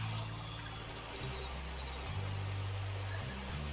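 A water pump runs in Gold Rush The Game, giving a continuous watery pouring rush over a low mechanical hum that shifts pitch in steps every second or so.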